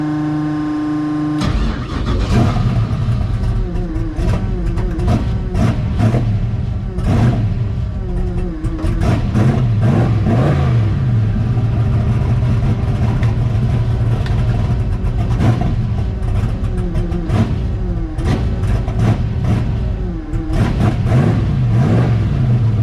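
A twin-turbo racecar engine on its first drive starts, then revs repeatedly in loud, rising bursts over a rough idle, close and dominant throughout.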